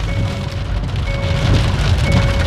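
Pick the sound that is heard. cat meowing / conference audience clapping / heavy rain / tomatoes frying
heavy rain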